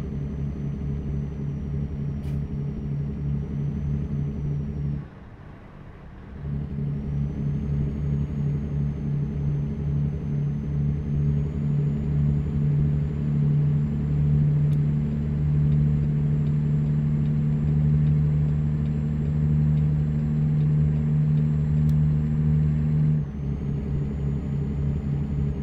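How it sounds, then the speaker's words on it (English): A truck engine in American Truck Simulator drones steadily at a low, even rumble for about twenty-five seconds, dipping briefly near the five-second mark before resuming at a constant level. "So I gotta get used to this engine, the way it sounds with the shifter."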